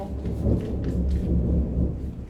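A deep, rumbling roll of thunder at night runs through the whole stretch, loud and low, with faint rain underneath and no voices.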